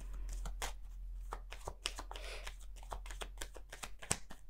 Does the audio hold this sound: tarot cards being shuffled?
yes